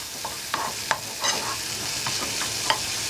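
Onion and pepper refrying in oil in a pan, a steady hiss of sizzling with a few sharp scraping stirs and pops scattered through, close and moderately loud.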